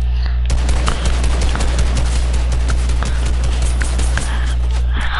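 Rapid automatic rifle fire from an AK in an online shooter game, a steady rattling burst of repeated shots running the whole moment, loud and close with a constant low hum underneath.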